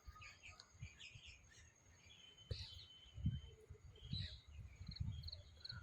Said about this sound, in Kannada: ಪ್ರಾಣಿ ಪಕ್ಷಿಗಳು ಚಿಟುಪಿಟಿ ಅಂತವೆ ಸ್ನೇಹಿತರೆ.